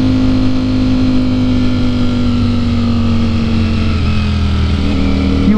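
Ducati Streetfighter V4 S motorcycle with an Akrapovic titanium full exhaust, a loud, sustained engine note under acceleration with a strong steady low hum and a pitch that shifts slightly toward the end, heard up close.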